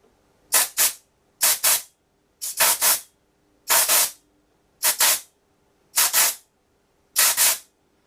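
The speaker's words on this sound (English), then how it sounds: "I'm actually going to get my air compressor and keep that away from the mount" Seven short bursts of compressed air from an air compressor nozzle blast dust off a Paramount MX telescope mount motor, each hiss roughly half a second long with brief gaps, loud and close with no talking.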